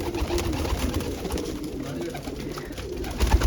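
Large pigeons coo close by in soft, repeated throaty calls over a low rustling background, with no talking.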